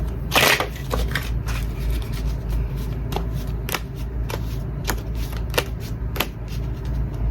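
Tarot cards are shuffled by hand in quick repeated riffles and snaps, crisp papery bursts spaced every second or so over a low steady room hum.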